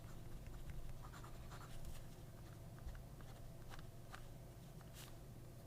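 Faint scratchy strokes from a stiff medium Number 6 steel-nib fountain pen moving across paper sheets, close and quiet, with a soft steady background hum.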